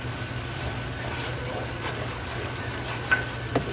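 Ground spices sautéing in a pan for malai kofta, a steady close sizzle with a couple of faint stirring scrapes near the end.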